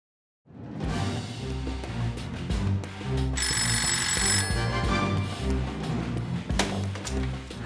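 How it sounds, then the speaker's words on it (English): A telephone rings with a bright, bell-like trill for about a second, set within steady background music indoors. "That's the phone."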